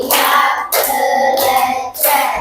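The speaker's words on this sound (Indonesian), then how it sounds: "Tepuk 5." A group claps hands in a counted pattern during a classroom pattern-recognition exercise, with several loud, close bursts of clapping separated by brief gaps and no talk.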